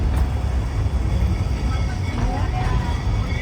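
A tram in Snowdonia rumbles along toward the next station with a steady low rolling drone, while people talk over it.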